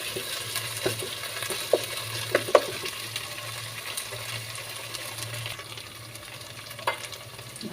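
Beef tripe with ginger paste fries in a pan, giving a steady low sizzle with occasional clicks and scrapes from stirring, close and moderately quiet, with no talking.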